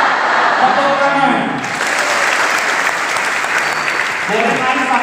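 A large student crowd at a university welcome lecture for new students in Medan breaks into loud, dense applause that swells and holds, with voices shouting among the clapping.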